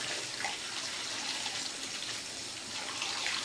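A bathtub fills with murky brown tap water, a steady, loud gushing rush of running water with no talk over it.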